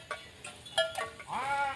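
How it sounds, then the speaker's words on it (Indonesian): Limousin cattle on a breeding farm give a few short, faint calls, ending in a longer wavering moo. "Pikir saya tadi suara macan enggak tahu suara sapi ya."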